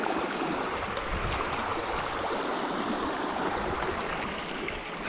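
A local trout stream in Pennsylvania flows with a steady, close rushing and burbling of water, continuous and even throughout with no voices.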